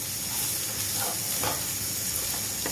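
Besan batter cooks in a pan over low gas: a continuous soft sizzle and hiss, with a few faint scrapes as it is stirred. No voices are heard.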